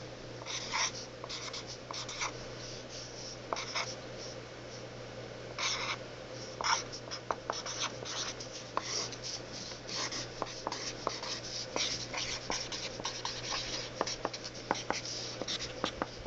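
A pencil scratches across paper while drawing an angel, giving a close, quiet run of short strokes and scribbles over a faint steady hum, with no talking.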